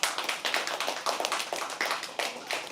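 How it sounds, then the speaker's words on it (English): An audience at a live poetry open mic claps, a close, steady burst of applause with rhythmic surges, no talking. "Can we all clap for them,"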